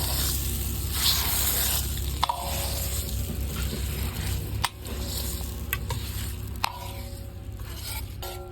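Spinach saag stirred after tempered Kashmiri red chillies go in, a soft continuous sizzle with wet squishing and scraping of the spoon, a few sharp knocks on the pot, close up in a village-style kitchen, no voices.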